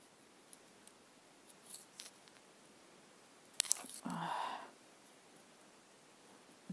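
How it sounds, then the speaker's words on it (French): Scissors used on scrapbooking paper while crafting a paper flower, giving a few faint, quick snips and squeaks close by in an otherwise quiet room. "On va prendre le ciseau pour pincer."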